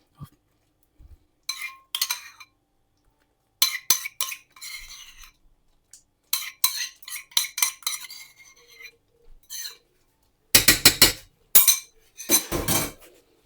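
Metal spoon clinking and scraping around a cooking pot as yogurt is stirred into palak chicken, in repeated short bursts with pauses, the last few strokes louder and harsher.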